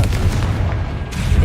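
Confringo blasting spell in Hogwarts Legacy, a heavy low-end boom with a rumbling tail that fills the whole short moment.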